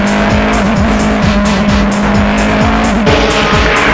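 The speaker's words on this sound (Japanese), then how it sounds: "After 10 laps, the three cars were forming a group." Several race cars run close together in a group on a circuit, engines roaring loud and continuous with repeated rising-and-falling revs as they shift and corner, tires squealing, with no talk.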